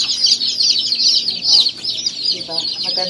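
Newly hatched chicks in an incubator chirp continuously in high, overlapping peeps, loud and close, with a few lower clucking sounds near the end.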